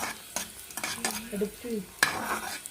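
Raisins sizzle and crackle in hot ghee while frying for moong dal payasam, with a utensil stirring and scraping the pan in a few brief strokes, close by.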